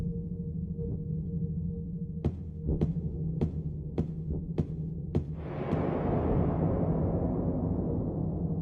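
Pulsating, heartbeat-like music from the Silent Hill 2 video game: a string of regular low thumping beats over a droning hum, swelling into a louder hissing wash near the end, with no talk.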